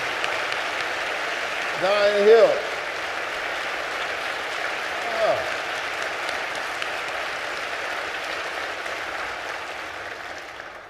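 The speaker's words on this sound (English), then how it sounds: "give them a great big round of applause" Applause from an audience filling a church during a town hall, a steady wash of clapping that holds throughout, with a voice speaking briefly over it early and again midway.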